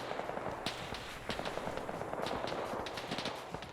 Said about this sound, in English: I can't tell if that's a ricochet from that gun or people actually firing up here.